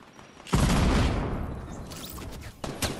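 Gunfire in the video game Fortnite: a loud close burst of rapid automatic shots that decays into rumble, followed by a few more sharp shots.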